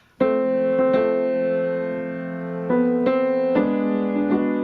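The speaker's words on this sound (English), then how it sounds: "Like a block chord would sound like this." Several piano chords struck together, each ringing out with rich sustained harmonics; a few successive block chords, played fairly loud with no speech.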